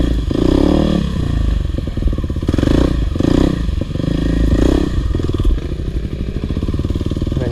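A 2022 Kawasaki KLX 300R or 2009 KTM 450SXF dirt bike is ridden nearby, its engine revving and surging in loud repeated bursts, with rattles and knocks from the bike and terrain running throughout.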